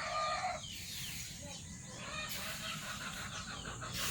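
A rooster crows in a backyard poultry pen among other chickens, loud and close at first, then followed by softer clucking and farmyard noise.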